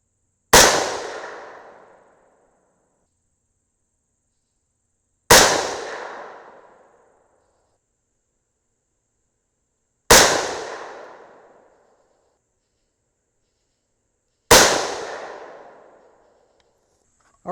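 Four loud 6mm rifle shots with a Harrell's muzzle brake, each a sharp close blast with a short decaying ring, spaced about five seconds apart.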